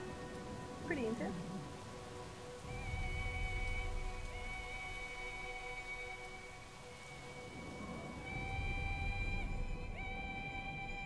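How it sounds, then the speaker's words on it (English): Rain falls in the video game Brothers: A Tale of Two Sons, a soft hiss of rain in two swells beneath sustained musical tones, with a voice talking over it. "look at the rain effects."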